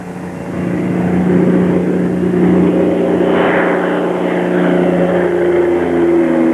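Bell P-39 fighter plane engine giving a steady, droning hum with strong low harmonics, loud and continuous throughout without any voices.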